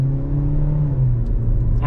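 A 2025 Kia K4 GT Line car with a CVT transmission accelerates hard, a steady engine drone rising slightly in pitch, heard from inside the cabin with a faint click at the end.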